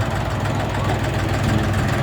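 A Lovol 244 mini tractor's small diesel engine runs with a steady, low chugging rumble, even and continuous, close by, with a voice talking over it.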